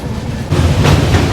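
The Patna Udaipur Humsafar Express runs along a single-line track near Hathras, a rumbling rolling train with rhythmic wheel clatter that grows louder after a brief quieter start.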